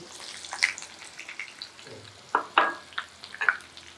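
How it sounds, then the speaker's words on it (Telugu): Sliced onions dropped into hot oil, with soft sizzling and a few sharp crackling bursts and spatters in a quiet kitchen. "నూనె కాగిందండి. ఇదిగో ఉల్లిపాయలు,"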